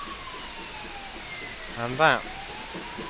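A fire truck siren sounds in a train simulator game set on Scottish western lines with a Black 5 steam locomotive, a brief rising wail near the end over steady engine hum, with a voice talking just before.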